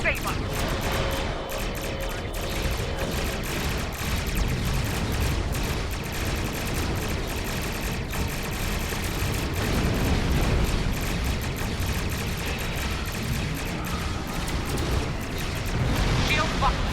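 Weapons fire from ships in a Star Trek Online space battle, a dense continuous barrage of blasts and booming rumbles with voices talking over it throughout.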